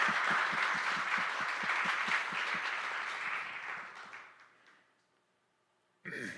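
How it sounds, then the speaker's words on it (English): Audience at a Sunday church celebration service applauds steadily, full and close, then the clapping thins and fades into silence before a brief new burst of sound at the very end. "let's just give them a little bit of applause"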